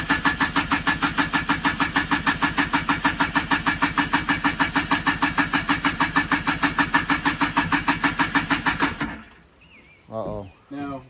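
A two-stroke engine on full choke catches and runs in a fast, loud, close rattle for about nine seconds, then cuts out abruptly, followed by brief talking.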